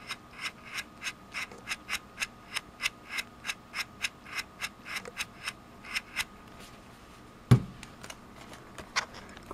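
Rotary switch of a Fluke 87V multimeter turned click by click, giving a steady run of about twenty crisp, close detent clicks with a gritty grinding texture, then one heavier knock near the end.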